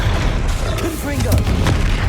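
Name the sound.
Confringo blast spell explosion in video game Hogwarts Legacy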